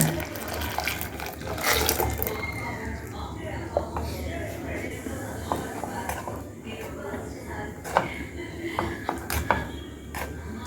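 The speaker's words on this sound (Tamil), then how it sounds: "பட்டர் கரைஞ்சதுக்கப்புறம் இப்போ இந்த பாலை தூக்கி ஊற்றிடுவோம்." Milk is poured into a pan of melted butter for homemade ice cream, making a continuous soft liquid pouring and splashing sound with a few light clinks, under a speaking voice.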